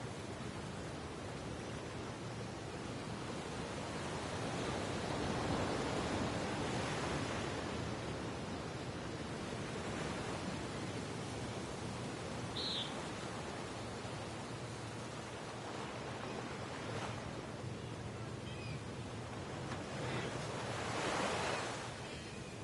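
Ocean surf washing around a tiny island golf course in a PS4 golf game, a soft continuous wash of waves rising and falling in slow swells, faint and distant with no talking.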